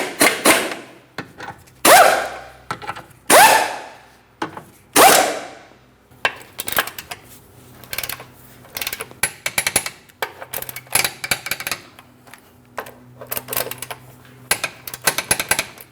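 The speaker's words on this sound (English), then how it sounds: "let's make sure we snug and torque all four of these rearward mounting bolts" A ratchet wrench torques the rearward engine mount bolts, 41 foot-pounds, on a 2008-2016 Chrysler Town & Country. Several loud, close ratcheting sweeps come first, then quicker, lighter clicking and rattling with no talk.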